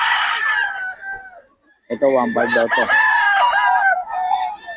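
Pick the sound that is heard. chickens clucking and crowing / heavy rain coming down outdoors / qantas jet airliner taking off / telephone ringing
chickens clucking and crowing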